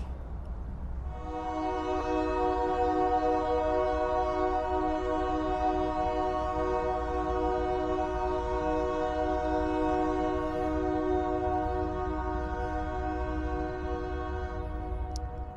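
A Union Pacific train rolls past, its horn sounding as a loud, steady chord that holds for about fourteen seconds over a continuous low rumble of wheels and engine, close by and alone without talk.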